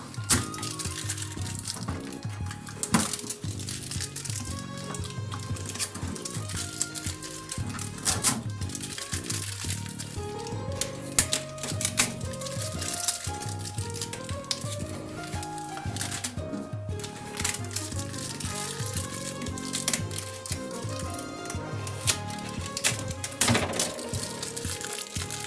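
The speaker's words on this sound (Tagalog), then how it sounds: "samahan niyo muna akong tanggalin itong parang mga tape na to" Protective tape is peeled off a new refrigerator in a long run of close crackling rips and sticky tearing sounds, with scattered sharp clicks and taps.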